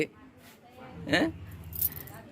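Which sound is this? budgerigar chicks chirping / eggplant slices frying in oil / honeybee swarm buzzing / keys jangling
keys jangling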